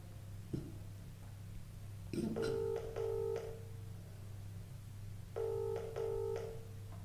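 A telephone call being placed, with a couple of faint clicks followed by two bursts of dial tones or ringback beeps in repeated pulses, moderately quiet over a low steady hum, no talking.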